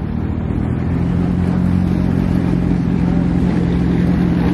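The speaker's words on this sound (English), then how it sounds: "There's a lot of cars out here today." Engines rumble steadily at a car meet, a dense continuous drone of idling and revving cars close by, loud and unbroken throughout, with no talk.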